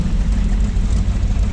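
A 1974 Chevy C30 dually truck engine runs at a steady, loud low rumble, close up, with no voices over it.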